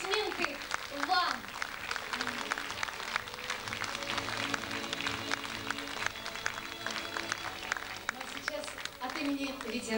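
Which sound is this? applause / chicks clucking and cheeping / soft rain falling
applause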